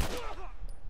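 A gunshot from a firearm in The Last of Us video game, a single loud, sharp report at the start with the echo fading behind it.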